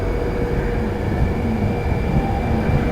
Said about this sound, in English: This is one of the new 11 coach Pendolinos, 39155.